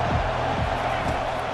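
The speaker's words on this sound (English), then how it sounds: "this crowd trying to help keep them there" A large stadium crowd in a college football video game, USC at Nebraska, gives off a continuous roar and cheer. The sound is a dense, steady wash, with a voice faintly beneath it.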